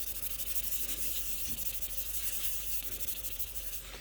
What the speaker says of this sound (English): So let's see how it sands, because it's sandable.